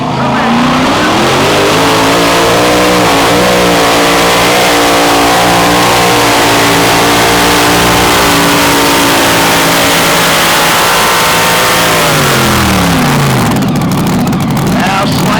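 A mini rod class pulling tractor engine roars close by at a tractor pull in Hillsboro, Wisconsin, rising in pitch as it revs hard, holding a strained whine, then dropping off abruptly near the end.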